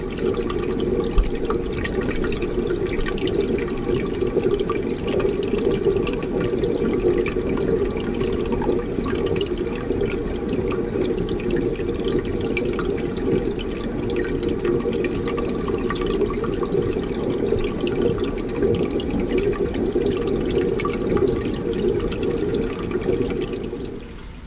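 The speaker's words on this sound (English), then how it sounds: "Here's what this tank used to sound like in the overflow back here." Water rushes and gurgles steadily through the overflow of a 150-gallon mixed reef aquarium. The noise is a constant, fairly loud splashing hiss that carries on unchanged for the whole stretch with no voices.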